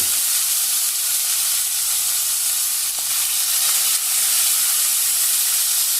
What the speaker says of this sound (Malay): Sampai dia bunyi macam tu.